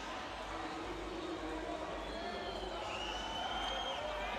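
An enthralled Brazilian crowd at the Rio 2016 Paralympic swimming final, a women's 200m freestyle S5 race, cheering as a continuous, even roar from a large arena with announcer-like voices mixed in.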